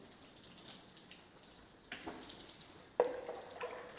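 Water splashes onto a car as it is thrown from an ice cream tub during an outdoor car wash. A couple of moderate, close splashes land about a second apart over low background noise.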